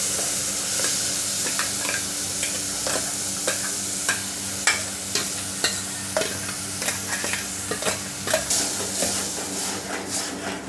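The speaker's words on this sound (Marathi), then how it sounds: "आता आपण जे वाटण केलेलं बारीक ते टाकायचं." Ground masala paste frying with onions in a hot pan for Malvani kaalya vatanacha sambara, a steady sizzle running throughout while a spoon stirs and scrapes in regular, crisp strokes, close and clear with no talking.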